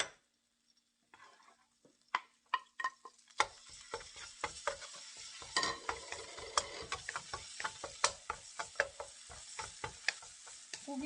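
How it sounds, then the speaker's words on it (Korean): Minced beef for bibimbap is stir-fried in a pan, sizzling steadily while a utensil taps and scrapes in quick, irregular clicks that speed up into a dense, busy rhythm. "다진 거 볶아요."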